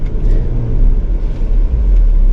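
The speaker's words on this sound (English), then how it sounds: "we'll get back here on the straightaway and see if we can get it to launch again" A 2020 Ford Explorer ST launches from a stop using brake boost on a straightaway, a loud, deep engine rumble that builds steadily under acceleration, heard from inside the vehicle.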